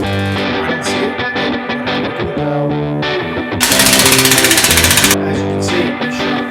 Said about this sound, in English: this tool right here, my Sosa Metalworks Shape-O-Matic power hammer